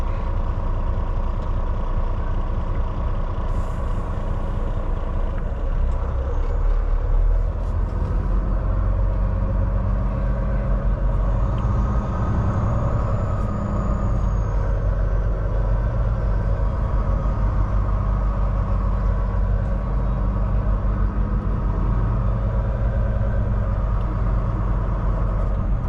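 Heavy trucks idle and creep through a busy truck stop, a steady loud diesel rumble filling the whole stretch with faint hiss and clatter on top, no talking.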